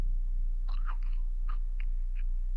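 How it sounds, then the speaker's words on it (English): Crunchy food is chewed close to the microphone, a handful of crisp crunches spread irregularly over a steady low hum. "You're not listening to the crunching."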